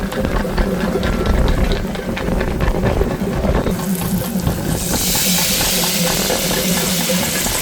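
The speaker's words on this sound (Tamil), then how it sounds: "நம்ம கரைச்சி வச்சிருந்தல அந்த புளி அந்த புளியை ஊற்றிடும்" Tamarind juice hits a pan of frying fish, and the loud sizzle and bubbling swell into a bright, sustained hiss of steam that fills the second half.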